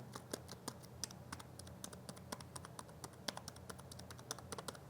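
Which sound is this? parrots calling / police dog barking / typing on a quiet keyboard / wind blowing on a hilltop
typing on a quiet keyboard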